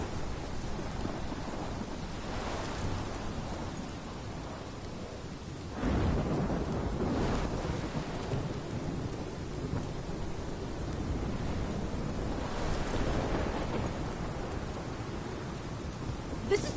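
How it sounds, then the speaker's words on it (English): A thunderstorm in the video game Life is Strange: steady heavy rain hisses throughout while deep thunder rumbles and cracks roll in repeatedly, loud and close, with no voices. "This is my storm."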